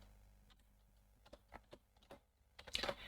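Keys clicking on a computer keyboard during a lesson on entering program input, a loose run of separate taps with a brief faster flurry near the end, close and quiet with no talking.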